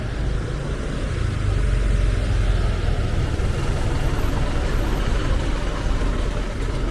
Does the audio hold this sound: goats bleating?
no